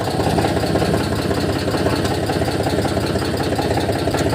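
A vehicle engine runs at a steady idle, close and loud, with a continuous low rumbling throb and faint knocking pulses throughout.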